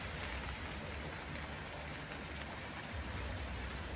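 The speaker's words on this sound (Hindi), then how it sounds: "इसकी वजह से कई जगहों पर तेज बारिश।" Heavy storm rain pours steadily in a dense, unbroken hiss, with a low rumble underneath and no voices.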